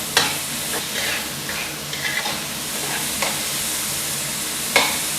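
Minced pork stir-frying in a pan before shrimp goes in, continuous loud close sizzling broken by several spatula scrapes and taps, without speech.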